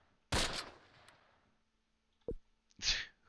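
Sharp gunshot bursts from the Close Combat World War II tactics game, Panthers in the Fog at Le Vieux Bourg: a loud opening volley that rings out and decays, then a single crack and a final burst.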